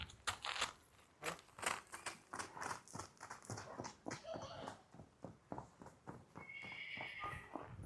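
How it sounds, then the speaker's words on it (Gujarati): A mare's hooves clop in an uneven, repeated rhythm close by, with a short whinny-like sound near the end. "ચેતનભાઈ ઊંચા થાય કે બે પગે ઘોડી ઉપર?"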